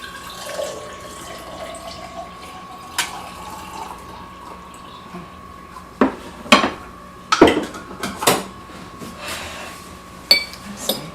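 Metal slotted spoon clinking and scraping against a dish while serving beans, with several sharp knocks clustered in the second half over a low background hum and faint kitchen noise.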